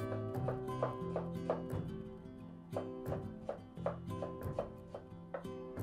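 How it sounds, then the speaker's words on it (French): Ginger slices are chopped finely with a knife on a board, a brisk run of crisp rhythmic taps close by, with no talk. "Puis coupez 5 tranches d'1 mm d'épaisseur de gingembre en brunoise."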